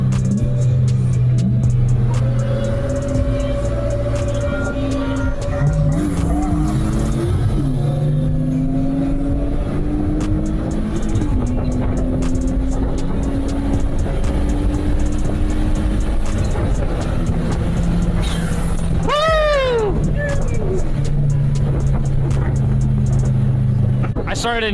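A supercharged BMW E36 accelerates hard in a roll race, its engine rising in pitch through several long pulls with gear changes, loud and continuous from inside the car, with voices talking over it.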